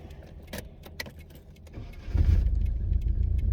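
A car that ran out of gas gets a start attempt: a few clicks and key rattles, then the engine catches and runs with a low, rough idle.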